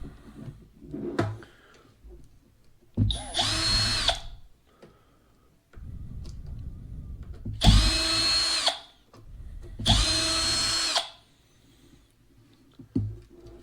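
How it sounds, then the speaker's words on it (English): Power drill removing the three front bumper screws on a 1/16 scale Traxxas Summit RC truck, three loud separate whirring bursts of a few seconds each, with clicks and handling noises in the quiet gaps between. "I'll go ahead and start pulling the front bumper off, and that is 3 screws."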